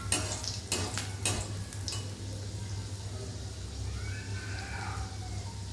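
A traditional Indian sweet fries in hot oil in a pan, with oil spooned over the top before it is flipped. A few clattering knocks come first, then a soft, steady sizzle runs under a low hum.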